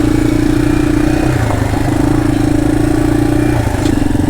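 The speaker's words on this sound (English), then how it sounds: "Three dirt bikes and a moped." Three dirt bikes, two of them dual sport, and a moped run on a trail hill climb, their engines a loud, close, steady buzzing drone with slight pitch shifts throughout and no talking.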